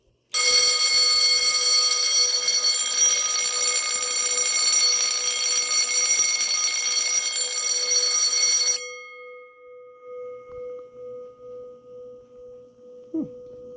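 A rusty Stromberg 6-inch electric alarm bell rings continuously and loudly for about eight seconds, then stops abruptly, leaving a faint lingering hum.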